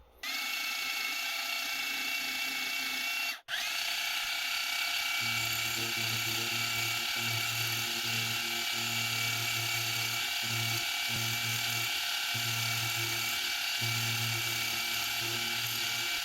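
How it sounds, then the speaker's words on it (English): A steady high mechanical whine of a drill running continuously, with a lower pulsing hum that starts and stops in short bursts. Nobody speaks. The drill is boring a relief hole in the inside corner of a metal workpiece. "I now need to drill a relief hole in this corner here"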